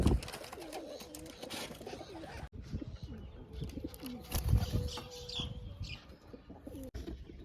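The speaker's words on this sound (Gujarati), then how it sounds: "તો આ કબૂતર જોવો તમે કેવું લાગે" Young wild pigeons near an open window coo repeatedly in soft, low rolling phrases, with occasional chirps and a brief flutter of wings, fairly close and steady throughout.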